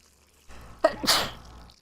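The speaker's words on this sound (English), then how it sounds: "Kind of have to sneeze." A single sharp sneeze from a person at home in a kitchen, a quick intake followed by a loud burst, close and alone with faint room noise around it.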